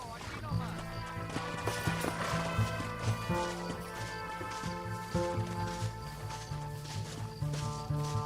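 Horse hooves gallop in a rapid, steady rhythm in the Western video game Red Dead Redemption, partly buried under loud orchestral game music with brief dialogue.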